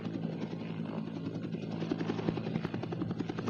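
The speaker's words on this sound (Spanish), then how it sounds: "El estruendo de las aspas del helicóptero lo llenaba todo" Helicopter rotor blades roaring steadily at close range, a dense, pulsing thrum that fills the whole stretch with no voices over it.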